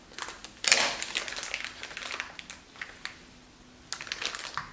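Small cuts into a cake or stiff frosting layer while shaping a hole for a Russian piping tip design, heard as soft crunching and crinkling scrapes in short bursts, close and fairly quiet, with no talk.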